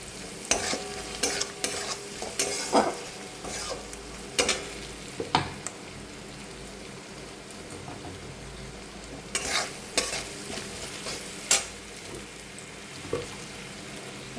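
Sliced onions frying with turmeric and salt sizzle softly in a pan while a spoon scrapes and knocks against the metal at irregular intervals, close and moderately loud with no talking.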